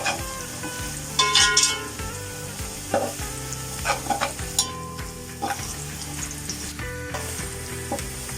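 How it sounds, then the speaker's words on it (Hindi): Whole garam masala spices frying with onions in oil for chicken yakhni moti pulao, a steady close sizzle broken by repeated scraping stirs and occasional clinks of a spoon against the pot, with no talking. "अब ये अनियंस के साथ फ्राई होंगे"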